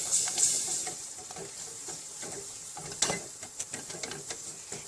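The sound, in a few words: adding milk to sauce in a pan for lasagna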